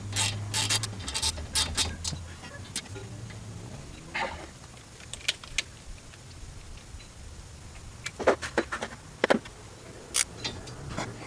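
Torque wrench ratcheting on a Honda S2000 front brake caliper bolt, sharp metallic clicks in short bursts with quieter mechanical handling between, close up and without talk.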